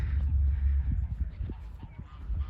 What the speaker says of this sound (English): there's a few of the geese